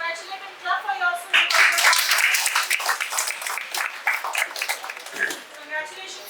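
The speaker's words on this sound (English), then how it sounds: "congratulate and clap for yourself" Clapping from an audience of participants at an institutional business plan competition, a moderate patter of hands heard under a speaking voice that continues throughout.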